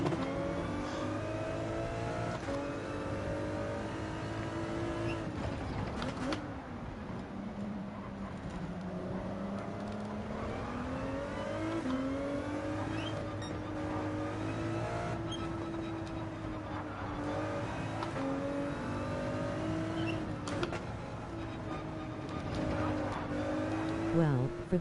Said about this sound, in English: Lamborghini sounds good.